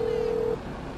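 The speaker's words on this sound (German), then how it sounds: "Rufen wir mal Lamar an." A phone call ringing out in the video game GTA 5: one steady electronic ring tone holds for about half a second, then cuts off, leaving quiet background.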